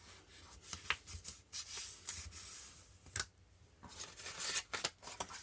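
Paper folds being creased by hand for a December journal binding: soft, close rubbing and scraping strokes come in irregular bursts, quiet and without talk.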